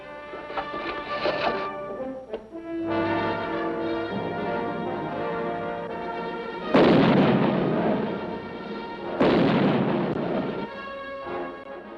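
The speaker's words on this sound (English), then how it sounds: "With these cannon mounted on the heights overlooking the city, General Washington forced the British out o" Two booming cannon blasts ring out several seconds apart, each a loud rumbling crack, over a sustained background of brassy, ringing music.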